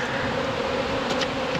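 Honeybees humming inside a hive, a dense steady drone held close and continuous with no gaps or voices.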